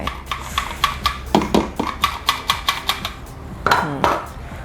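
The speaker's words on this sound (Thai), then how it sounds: "ร่อนแป้งเค้กใส่ลงไป" Cake flour sifted through a sieve into whisked egg batter, heard as a steady series of close, sharp taps and rattles.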